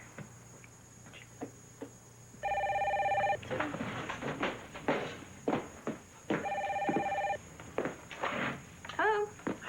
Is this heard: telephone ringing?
yes